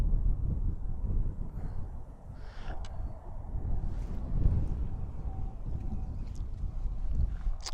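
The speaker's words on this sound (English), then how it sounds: "but that wind is starting to pick up" Wind gusting outdoors on a fishing outing, a steady low rumbling buffet across the microphone with a few faint knocks and clicks over it.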